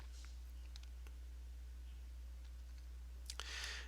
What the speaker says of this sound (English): so I'm going to put it in there and I'll click Save